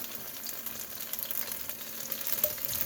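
Steady, soft sizzle of zucchini, onion and green onions stir-frying in a hot pan, a continuous crackling hiss without talk.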